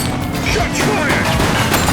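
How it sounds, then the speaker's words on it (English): Rapid police-game gunfire in The Precinct: a dense, continuous volley of overlapping shots and thuds, loud and close, with a voice talking over the din. "Shots fired!"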